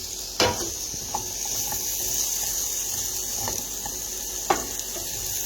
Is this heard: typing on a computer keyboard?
no